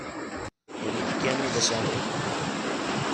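Sea waves roll and wash beside the INS Kursura submarine in Vizag, a steady broad surf roar with wind buffeting the microphone after a brief dropout at the start.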